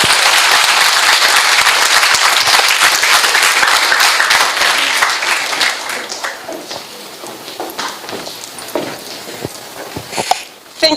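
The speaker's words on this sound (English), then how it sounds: "let's give her a Centralian round of applause. Dr. Nadia Belhaj Hassin." Audience applause at a multistakeholder forum on a World Bank report, dense and loud at first, then thinning into scattered claps that taper off toward the end.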